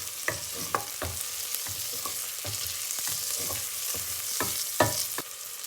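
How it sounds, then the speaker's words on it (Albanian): Diced pancetta and onion frying together in a pan, with a steady close sizzle and repeated scraping stirs at a regular pace, no voices. "do shtojmë brenda copat e pancetës që i kemi prerë në kubik, që të skuqen dhe ato bashkë"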